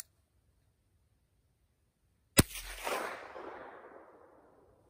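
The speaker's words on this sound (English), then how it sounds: "the supersonic crack still rings through the hills, suppressed or not" A single suppressed rifle shot, fired in open hilly country, cracks sharply and then rolls away in a long decaying echo across the hills, heard alone against quiet.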